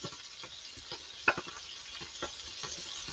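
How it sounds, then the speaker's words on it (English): Halloumi pan-frying with mushrooms, garlic and thyme gives a quiet, steady sizzle and hiss, with scattered small crackles and one sharper pop partway through; no one speaks. "You can hear the sizzle."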